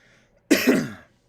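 A single short, sharp cough from a woman, close and moderately loud, rising abruptly after near silence and trailing off within about half a second.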